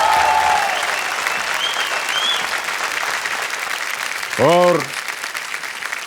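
The studio audience on Kaun Banega Crorepati breaks into continuous applause, a thick clapping wash with a few tonal musical accents over it and a single brief spoken word.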